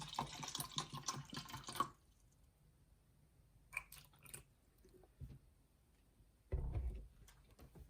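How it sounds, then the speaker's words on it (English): Diamond Head bottled water poured into a container for a pH and TDS test, splashing and trickling in a close, bright burst. Two brief softer spills and a final low gurgling pour follow after a pause. "Let's pour some water in."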